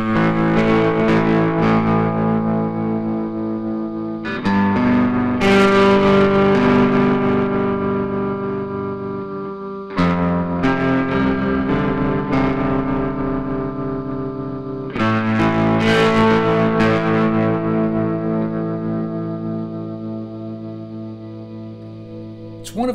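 Distorted high-gain electric guitar runs through a Boss TR-2 tremolo pedal, ringing chords that throb in steady pulses, each strum fading before the next, loud and alone with no talking.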